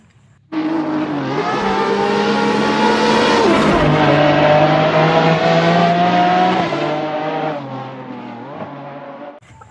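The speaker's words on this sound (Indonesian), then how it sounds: "Wah, ini mobil balap Lamborghini, teman-teman." A red toy Lamborghini race car sound effect: a loud, steady electronic engine-like whine with revving pitch shifts, starting abruptly and running alone for about nine seconds before cutting off.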